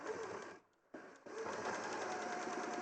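A sewing machine stitches down a pocket with a fast, even whirring hum, pausing briefly once before resuming at the same steady pace, close by and without talk.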